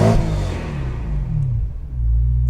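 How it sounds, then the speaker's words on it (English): Supercharged 2011 BMW M3 with a custom exhaust, resonators and catalytic converters deleted, revving loud and close, the engine note sweeping down after a sharp blip and then settling into a deep rumbling idle. "it does have a custom boiler exhaust with the OEM resonators and the catalytic converters deleted. Has a really nice clean sound to it."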